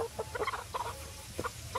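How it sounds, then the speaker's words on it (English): A pet chicken clucks close by in a short series of soft, uneven clucks and chirps, fairly quiet against a low background hum. "That was one of my chickens."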